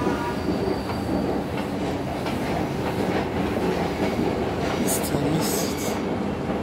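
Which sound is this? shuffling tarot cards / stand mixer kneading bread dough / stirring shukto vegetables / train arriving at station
train arriving at station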